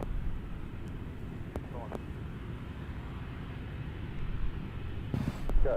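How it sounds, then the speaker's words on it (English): A Sun Country Boeing 737 in Prime Air livery arrives at Nashville International Airport, its engines a low, distant rumble under air traffic radio chatter, with the roar rising slightly near the end. "That was Sun Country 3644 coming in from Riverside, California in the Prime Air livery"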